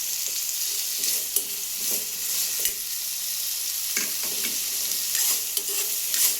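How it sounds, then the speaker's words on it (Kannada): Onions frying in a little oil for a village-style palak paneer, a bright steady sizzle close up, punctuated by scraping and tapping as a spoon stirs them around the pan; no one speaks. "ಒಂದು ಸ್ವಲ್ಪ ಎಣ್ಣೆ ಒಳಗೆ ಚೆನ್ನಾಗಿ ಫ್ರೈ ಮಾಡೋಣ್ರಿ ಫ್ರೆಂಡ್ಸ್."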